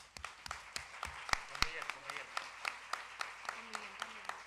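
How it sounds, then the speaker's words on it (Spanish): Audience at a book launch in a hall claps for a guest from Germany, scattered and fairly faint individual claps in an uneven rhythm, with a voice speaking over them. "así que les pido un caluroso aplauso para él"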